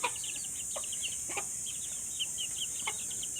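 Hens clucking and murmuring in soft, scattered bursts against a steady hiss, with a few brief calls rising over the flock's low chatter.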